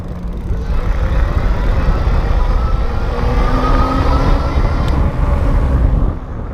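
An electric fat-tire bike conversion kit motor driven by a trigger throttle, giving a steady loud whirring drone with a rising whine that holds for several seconds before easing off.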